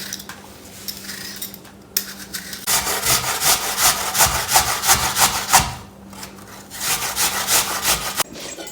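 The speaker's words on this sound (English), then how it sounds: "I'm going to coarsely grate that into the cabbage mixture" Peeled apple grated coarsely into a cabbage mixture, a run of loud rhythmic rasping strokes against the grater, each a bright scraping sweep, with short pauses between bursts and no talking.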